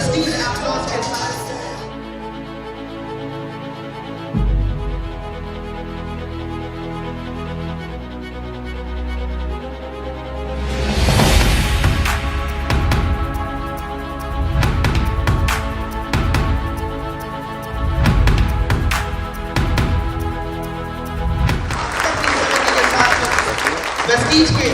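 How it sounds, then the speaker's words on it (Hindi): Audience applause welcoming Prestige's sales operations director at a Vestige event at The Revanta Club & Resort, a steady wash of clapping that swells and fades, loudest near the end, with music and a voice beneath. "दीपक सूद सर का वेलकम करना चाहूंगा प्रेस्टीज एप्लॉज के साथ"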